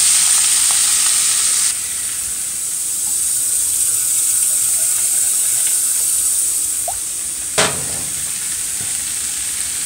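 A pot of trunk fish curry, with fish boiled beforehand and a little water added, simmers and sizzles in a steady broad hiss, close and loud, broken by one sharp clatter near the end.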